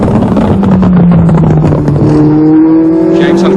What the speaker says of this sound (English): James Hunt, that red and white Marlboro McLaren M23, a 4-year-old car